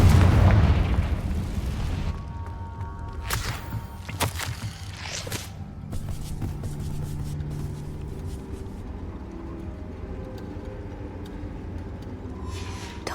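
A Confringo fire spell blasts in Hogwarts Legacy: a heavy, booming explosion at the very start that rolls off into a long crackling, rumbling decay, followed by scattered sharp cracks and lingering low ambient rumble.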